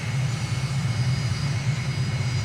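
A steady low engine drone from a simulated aircraft approaching an airport near a lagoon on Cat Island in the Bahamas, constant and even throughout with no voices.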